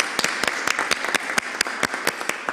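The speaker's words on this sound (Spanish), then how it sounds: "Así que por favor, yo les aplauso." Applause for a team at a constitutional convention session in Chile, a modest group clapping with distinct sharp individual claps standing out over a thinner steady patter.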